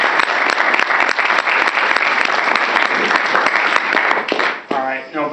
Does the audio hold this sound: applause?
yes